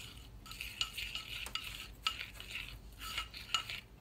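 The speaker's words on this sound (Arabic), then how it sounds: "هاخد معلقتين من اللبن المجفف وهبدأ اقلب" A spoon stirs powdered milk in a small bowl, giving quiet, irregular clinks and scraping taps against the container at close range, with soft pauses between strokes.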